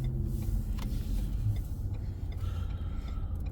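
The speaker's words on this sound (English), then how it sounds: "There is more traffic than I thought, actually" City street traffic in San Francisco, a steady low rumble of passing cars and engines, moderately close and continuous, with no talking over it.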